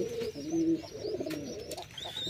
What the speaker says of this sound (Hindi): ये हमारे उड़ान का कालशेरा है, सेम ब्रीडिंग पेयर है।